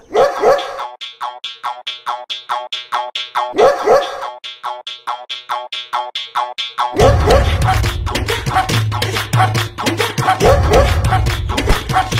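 A dog barks in a quick, regular string of loud yaps that stops and starts, then a dense, busy layer of sound with a low rumble takes over for the last few seconds.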